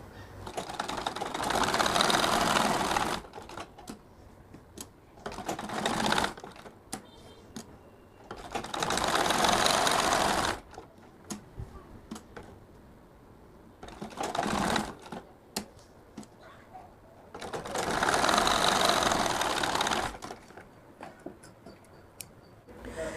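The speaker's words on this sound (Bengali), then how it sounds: "পরে ব্লু সুতা দিয়ে সেলাই করে দিব" Sewing machine stitching a pocket on a kurta-style fotua with blue thread, running in three or four bursts of rapid chattering stitching separated by pauses with soft handling clicks.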